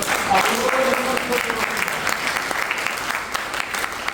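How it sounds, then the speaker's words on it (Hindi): An audience at a business seminar claps loudly, a dense sustained round of applause that holds for several seconds and slowly thins toward the end. "ताली बजा सकते हो दोस्तों"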